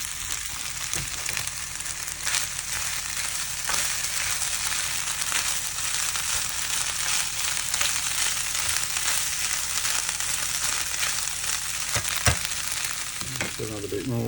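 Mushrooms sizzle and crackle steadily in a hot pan for mushroom risotto on a narrowboat, a constant loud frying hiss that runs throughout, with stirring knocks now and then.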